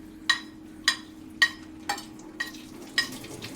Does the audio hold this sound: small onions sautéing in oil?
yes